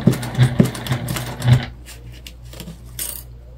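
A sewing machine due for a needle change stitches nearby with a rapid clattering rhythm for about a second and a half, then stops, leaving faint clicks and rustles.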